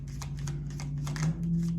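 Tarot cards slid back into a deck, a run of soft papery riffling brushes close by over a steady low hum.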